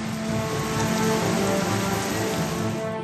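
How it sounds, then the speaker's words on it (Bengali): Heavy rain falls steadily on surfaces in a monsoon downpour, a dense, unbroken hiss with a low rumbling undertone, close and constant throughout. "আকাশের মুখ ভার, কোথাও ঝেঁপে বৃষ্টি,"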